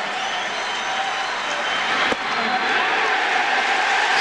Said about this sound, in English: the crowd is going to erupt with every strike